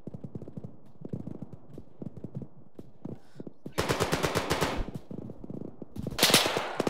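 Rapid bursts of automatic gunfire in the military shooter game Arma grow denser and louder, with dense rattling volleys following a stretch of quieter, sparser shots.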